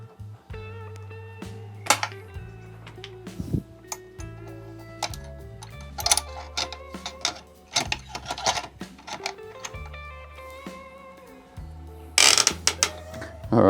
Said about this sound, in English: Grab my pulley system and we'll try once more and see if it's a failure or not.